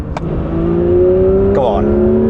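A Porsche 911 S/T accelerating from 40 to 90 in third gear: a loud engine note rising steadily in pitch, heard from inside the car, with a voice over it.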